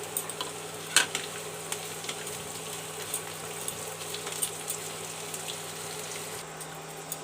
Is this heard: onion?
yes